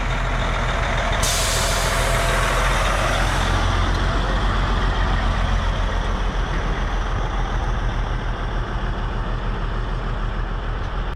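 A semi truck rig used as a car transporter idles close by in a loud, steady diesel rumble, opening with a brief sharp hiss like an air brake release, with no talking.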